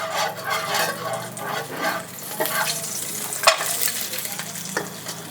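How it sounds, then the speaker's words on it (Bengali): Tutti frutti lightly frying in ghee for besan laddu, a steady close sizzle with stirring scrapes throughout and one sharper clink near the middle, no voices. "এই টুটি ফুটিগুলো আমি এখান থেকে হালকা ভেজে নিয়ে নিচ্ছি"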